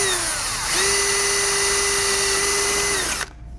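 A power drill bores through metal chimney cap flashing for a rivet, its steady whine running for about two and a half seconds after a brief start, then cutting off abruptly near the end.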